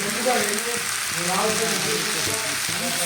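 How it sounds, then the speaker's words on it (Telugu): Broad beans curry frying in a pan with chili powder, stirred steadily: a dense, constant close sizzle with faint scraping strokes of the spoon underneath, no talk. "కారం వేసుకొని బాగా కలుపుకొని"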